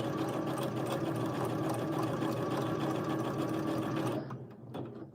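A domestic sewing machine runs steadily through free motion embroidery with a small stitch, a loud, continuous motor whir close up, then stops abruptly near the end and leaves a brief softer mechanical tail.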